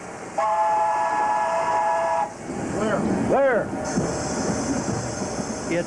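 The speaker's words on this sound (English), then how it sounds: "From the train they call the Colonial" Amtrak Colonial passenger train running in North Carolina or Virginia, with a sustained horn-like tone early on, then rolling rail noise and a passing swoosh with rising and falling pitch at moderate distance.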